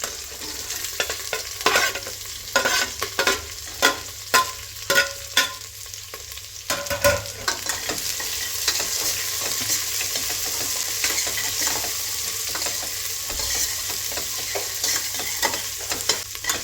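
Onions frying in a pan and stirred until brown for tomato bath, a constant loud sizzle with regular scraping stirs, rhythmic at first and then steadier, close up with no talk.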